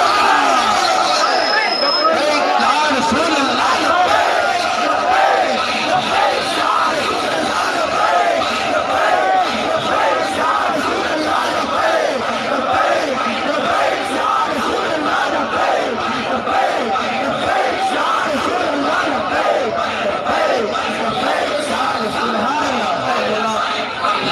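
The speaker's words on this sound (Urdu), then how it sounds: "جو کھلے آسمان کے نیچے لبیک یا رسول کے نعرے لگا رہے ہیں" A large crowd at an open-air religious conference chants Labbaik Ya Rasool Allah slogans continuously and loudly, a dense roaring mass of voices that never lets up.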